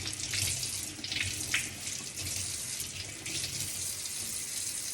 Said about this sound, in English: Next, it's time to wash the potatoes.